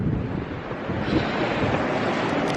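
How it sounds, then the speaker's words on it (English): Ocean waves crashing at a coastal viewpoint, a continuous loud surf roar mixed with heavy wind buffeting on the microphone, with no talk. "look at these waves"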